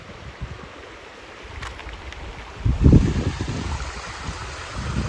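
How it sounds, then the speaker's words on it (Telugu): A waterfall pours over rocks in an Odisha forest, giving a steady, close rush of water that swells briefly partway through, with no voices. "ఇదిగోండి వాటర్ ఫాల్స్ ఇక్కడ ఉన్నాయి"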